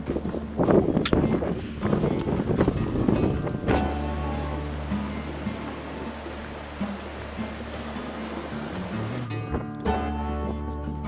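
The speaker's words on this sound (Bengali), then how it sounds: "চললাম গোমুখ থেকে, হেভি হাওয়া বইছে" Heavy wind near Gomukh glacier, among rocky Himalayan terrain, buffets the microphone with loud, rumbling gusts that then settle into a steady, broad rushing roar.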